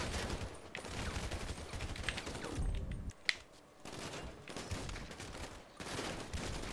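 Rapid bursts of gunfire erupt in a zombie mod of GTA 5, loud and dense, with short pauses between volleys and sharp cracks standing out.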